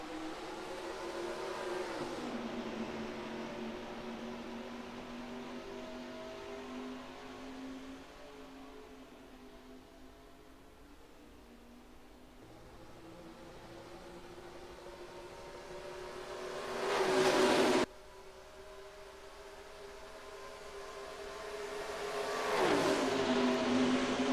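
Race cars accelerate at the green flag for the Pepsi 600 at Charlotte Motor Speedway in NASCAR Racing 2003: a steady engine drone with rising pitch, then two loud, close cars sweeping past.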